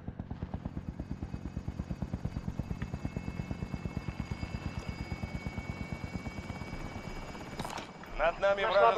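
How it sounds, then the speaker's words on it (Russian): A helicopter in the video game Call of Duty Warzone approaches with a steady, rapid rotor chop that pulses evenly and grows louder, followed by a brief burst of in-game sounds at the end. "Вертолет уже в пути."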